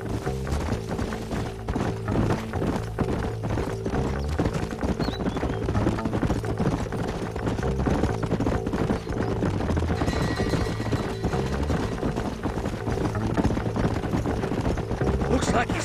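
Horses trot in the Red Dead Redemption video game, their steady clip-clop of hooves running throughout beneath a dense, continuous musical score.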